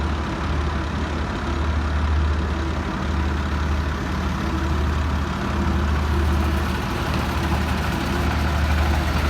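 A tractor engine idles steadily at a cricket stadium, a continuous low diesel rumble and hum that stays close and even in loudness throughout, with no voices over it.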